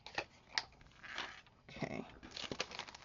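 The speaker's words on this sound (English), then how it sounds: "Just going to use my scissors here, make like a little decorative edge." Several short crisp snips and crunches of scissors cutting through stiff card, close up, in an uneven rhythm with brief pauses.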